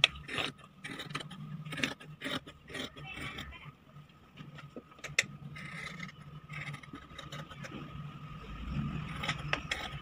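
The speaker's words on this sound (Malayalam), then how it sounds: "ഇനി നമുക്കിത് കട്ട് ചെയ്തെടുക്കാം." Fabric for a ladies shirt being cut with scissors: quiet, close snipping and scraping in irregular strokes over low background hum, fairly faint and without speech.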